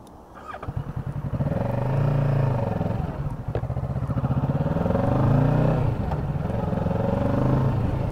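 A Kawasaki Ninja motorcycle accelerates from close by, its engine note rising and falling through several gear changes with a steady, throaty drone under a little wind noise.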